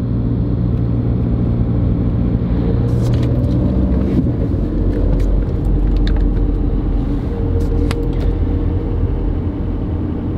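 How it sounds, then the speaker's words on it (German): A car engine droning steadily while driving at 30 km/h on cruise control, shifting into third gear, a continuous low rumble with faint clicks and road noise, no talking. "Wir werden jetzt den Tempomat bei 30 km/h belassen, werden aber den dritten Gang einlegen."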